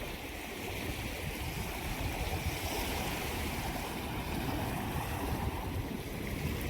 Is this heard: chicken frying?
no